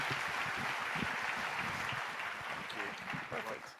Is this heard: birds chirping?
no